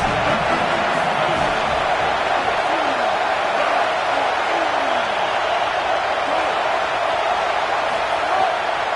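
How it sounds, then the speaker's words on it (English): Stadium crowd in an NCAA college football video game, a dense continuous roar of cheering and noise at steady loudness, with a commentator talking over it. "This crowd trying to make life miserable for this offense."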